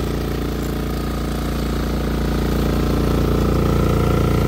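An MEP-831A military diesel generator with burnt-out exhaust fans runs steadily nearby, giving a loud, constant idling drone with a fine rhythmic pulse and no talk.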